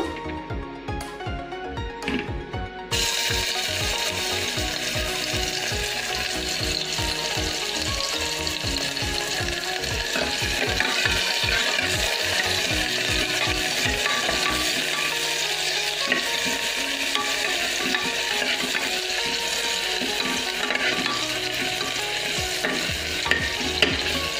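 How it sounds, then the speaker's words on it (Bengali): Onions dropped into hot oil for a Bengali chana dal dish crackle into a loud, steady sizzle after a brief quiet start, with the repeated scrape and clatter of stirring in the pan. "তেলটা গরম হয়ে গিয়েছে, পেঁয়াজ দিয়ে দেব।"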